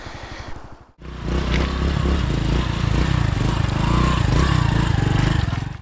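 Motorcycle ridden along a rural road, a brief idle before the engine revs up and holds a loud, steady droning buzz close by for several seconds.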